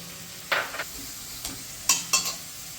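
Tomato sauce sizzles in a hot pan for potol dolma, a steady close hiss broken by several louder bursts of stirring and spattering, with no voices.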